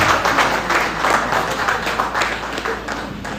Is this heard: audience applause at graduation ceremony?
yes